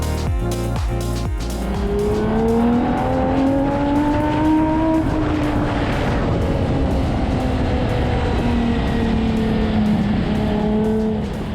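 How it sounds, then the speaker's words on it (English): A Ferrari 6.3-litre V12 engine roars close by, its pitch climbing as it revs, dipping briefly, then holding a high, smooth howl throughout. "It's one of the coolest sounding V12s. It is the Ferrari V12."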